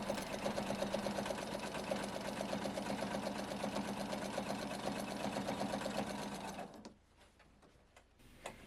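A sewing machine stitches quilt layers together in a steady, fast mechanical whir with a rhythmic needle chatter, running close and loud for several seconds before stopping abruptly, followed by a few faint handling clicks.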